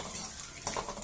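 Chana dal and urad dal with chillies frying lightly in a pan while a spoon stirs them, giving a soft steady sizzle with scraping and clinks of metal, louder in the final moments, no voices.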